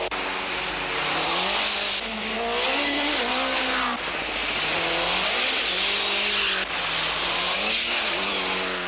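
Mitsubishi rally car at the 1989 Rally of Finland, engine roaring loud and continuous with rising and falling revs through gear changes, brief tire scrabble, heard alone without commentary.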